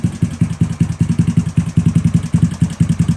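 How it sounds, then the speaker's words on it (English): A GY6 scooter engine idles roughly, its fast uneven putt-putt pulses close and loud, faltering slightly as if about to stall. "See, the engine looks like it's going to die out."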